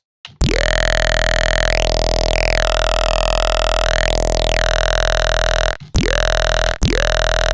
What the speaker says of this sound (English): I'll sweep from the high frequencies to the mids, and then they'll land somewhere in the middle